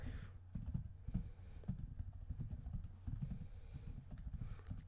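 A Java variable name is typed on a computer keyboard, giving a steady run of soft, close key taps over a low background hum.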